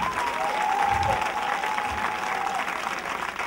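A congregation at a nighttime prayer vigil in Bonoua claps and cheers in acclamation of Jesus, steady dense applause filling the space throughout, with a sustained tone carrying above it.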